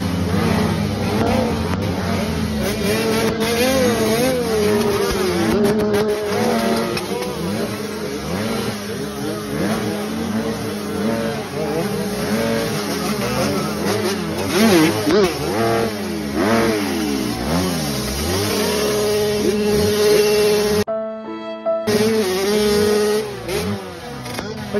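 Honda CRF 250 dirt bike engine revving loud and close, rising and falling through repeated throttle blips with a brief cutout near the end, continuous engine roar throughout.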